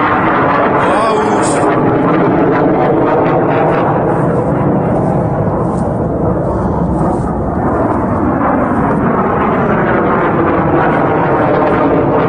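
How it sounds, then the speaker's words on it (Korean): A jet aircraft flies overhead near an air force base by a former agricultural college campus in Suwon, a loud, continuous roaring rumble that fills the whole stretch with steady intensity. "저 제트기 공군 비행장 있나?"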